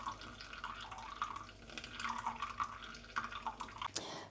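Hot water trickles and drips into a coffee kettle in a slow, uneven pour, with gurgling bursts close by and no talking.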